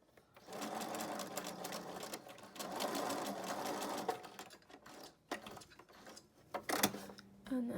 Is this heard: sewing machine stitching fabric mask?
yes